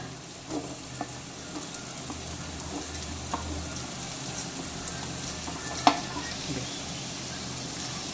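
Carrot and capsicum stirred and sautéed with tomato in a pan for pasta, a soft continuous sizzle with occasional faint scrapes and one sharper clink, close and steady, no talking.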